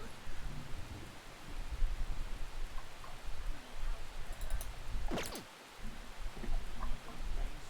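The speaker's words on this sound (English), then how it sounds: "Oh no, rain?" Steady rain in the video game Persona 5 Royal, an even hiss of falling drops throughout with a brief swooping tone midway, soft and continuous.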